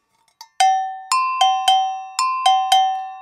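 Agogo bell struck with a percussion stick, about seven sharp, ringing hits alternating between two bell tones in a loose rhythm, close and clear with no talking.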